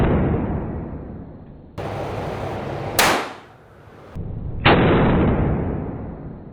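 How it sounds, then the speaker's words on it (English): A long, heavy bear gun fires two loud shots a couple of seconds apart, each a sharp broadband blast with a ringing decay, set against steady outdoor background noise. "It's surprisingly a smooth gun to shoot because it's so heavy."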